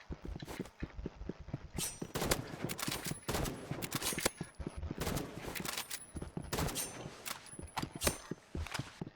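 Rapid gunfire fills a Roblox video game arena match, dense bursts of shots cracking in quick succession with scattered single reports, steady and close throughout, without speech.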